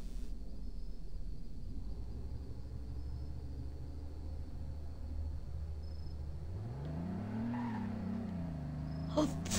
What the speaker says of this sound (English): You can probably hear the car.